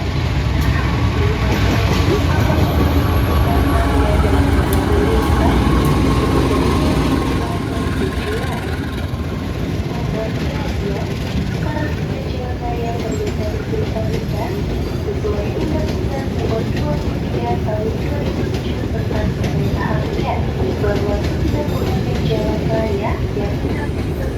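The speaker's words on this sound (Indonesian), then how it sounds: "Lokomotif CC203 aerodinamis tuh kalau narik rangkaian stainless steel kayak bagus banget ya" Aerodynamic CC203 diesel locomotive hauling a stainless steel passenger train of economy and executive cars, a loud steady rumbling roar passing close by throughout, with people talking over it.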